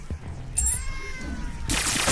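A house cat meows up close, one drawn-out, wavering call rising and falling in pitch over other indoor noise.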